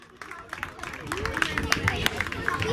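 A crowd at a tournament awards ceremony in Kamienna Góra applauds the medal winners, with scattered claps building into steady applause under crowd chatter and an announcer's voice.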